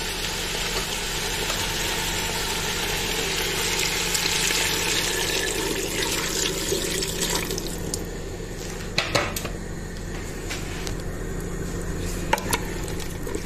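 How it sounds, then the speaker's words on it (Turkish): Hot water pours steadily into a pot of Turkish vegetable stew (türlü), a continuous rushing splash that eases off into quieter trickles and a few small clinks. "yemeğimizin suyunu verelim. Sıcak suyunu."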